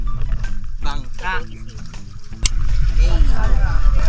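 A small outrigger boat moves across the sea near Balicasag Island, Bohol, with a loud rushing, churning wash and engine rumble, while people talk and exclaim nearby.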